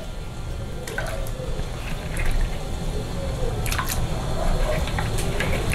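Chicken gizzards, about a kilo, dropped by hand into a pot of cold water, giving soft wet plops and drips over a steady background hum, close by.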